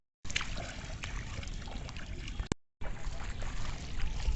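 A wooden country boat pushed by pole through water, with continuous trickling and sloshing water sounds and light splashes, close by, briefly cut off near the middle before resuming.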